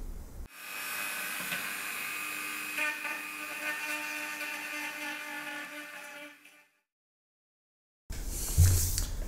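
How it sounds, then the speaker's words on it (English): A small Dremel rotary tool cuts into plastic case material for a Raspberry Pi hi-fi player build, giving a steady high-pitched whine for several seconds before stopping, then a short burst of noise resumes. "go and find a little Dremel tool and cut some material out here"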